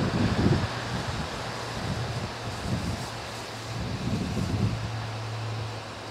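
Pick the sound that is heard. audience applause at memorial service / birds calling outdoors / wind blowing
wind blowing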